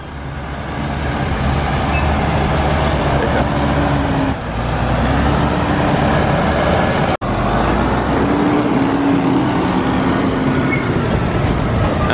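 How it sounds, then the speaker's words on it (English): Massey Ferguson 6480 tractor pulling a Richard Weston forage box trailer arrives at a maize harvest, a loud, steady engine roar that runs throughout with a brief drop partway through. "the Massey Ferguson 6480 here and a Richard Weston forage box trailer"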